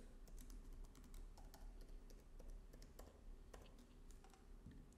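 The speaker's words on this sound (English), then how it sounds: "So we're gonna type in our current password" Steady typing of a password on a computer keyboard, quick soft key clicks in a continuous uneven patter, faint and close, with no talking.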